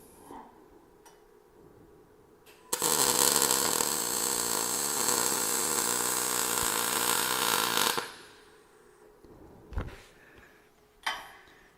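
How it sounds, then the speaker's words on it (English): MIG welding a metal section during motorsport fabrication work, a loud steady buzzing crackle that runs unbroken for about five seconds, followed by quieter background hum and a couple of brief knocks. "So I'll just weld the next section."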